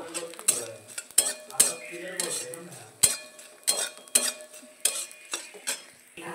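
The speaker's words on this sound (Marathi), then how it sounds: "हे वारंवार मी हलवत आहे बघा आणि गॅस कमी केलेला आहे आपला" Edible gum (dink) roasting in a pan over low heat, stirred repeatedly with a metal spoon; a series of sharp scraping clinks against the pan over a faint sizzle, close and fairly loud, with no talk.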